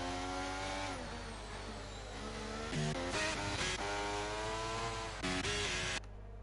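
A Formula 1 car engine in the F1 23 game holds a steady high-pitched whine at full load, with brief gear-shift dips and surges and a drop in pitch near the end.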